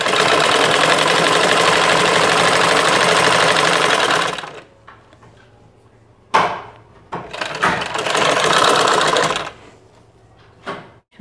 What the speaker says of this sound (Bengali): এখন আমি কী করবো, এই যে সাইডে পাইপেন বসাবো, পাইপ সেলাই দিব।